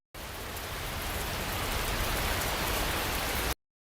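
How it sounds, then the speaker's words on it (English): Steady, dense rain pours continuously at an even loudness, a full hiss of falling drops that starts and stops abruptly. "Now, we'll play the sound of rain."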